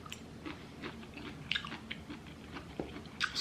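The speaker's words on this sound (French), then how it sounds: "Allez, je vais en goûter une pousse." Someone chews a cooked bamboo shoot close to the mic, with soft moist bites and faint crunches in an irregular rhythm, quiet and unaccompanied.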